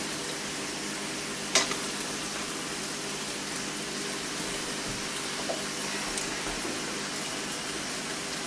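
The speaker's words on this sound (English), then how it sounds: "Start adding the pasta. Now I like ziti for this dish." Ziti pasta being added and stirred in a sizzling pan, with a steady frying hiss throughout and a sharp scrape or clatter near the start, mostly without talk.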